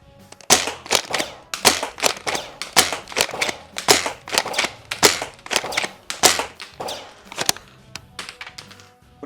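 A Nerf WS7 Limited Edition shell-ejecting shotgun fires repeatedly, about a dozen sharp, close cracks coming in irregular bursts with brief gaps between them.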